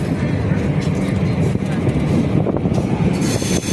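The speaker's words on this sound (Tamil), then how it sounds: "நம்ம கேத்தாப்புல தான் வண்டி வந்திருக்கு." A passenger train pulls into an Indian railway station beside lines of stabled electric locomotives, making a steady, close rumble and rolling hiss for the whole stretch, with wind buffeting and faint, indistinct voices underneath.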